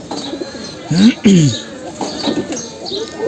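A female homing pigeon coos close by in soft, low, throaty rolls while someone talks over it.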